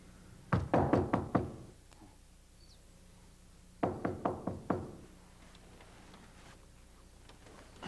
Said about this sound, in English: Who could be knocking on my door at this hour of the day?